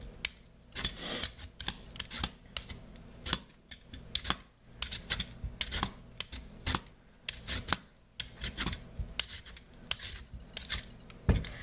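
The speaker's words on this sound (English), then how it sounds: "I'm gonna use this, you know, peeler." A vegetable peeler scrapes a sweet potato in a kitchen with a long series of short, close, rasping strokes in an uneven rhythm, heard alone without speech.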